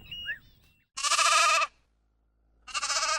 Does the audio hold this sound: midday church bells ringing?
no